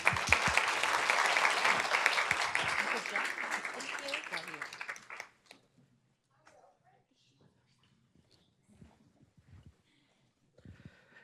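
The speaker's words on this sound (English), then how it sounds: "Let's give them a round of applause." A school board meeting audience gives loud applause for about five seconds, then it stops abruptly, leaving a quiet room with faint rustles and a few small sounds.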